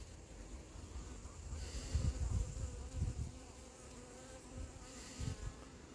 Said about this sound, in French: il y a 2 abeilles qui sont montées en haut. Je vais voir si elles sortent